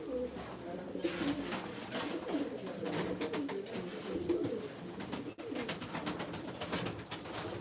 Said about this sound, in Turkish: Abi vallahi çok güzel kuşlar var.